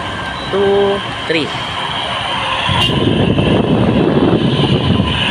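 A noisy motor-driven air cooler whirring steadily with broadband rushing noise, starting after a brief voiced hum and click, fairly loud and continuous.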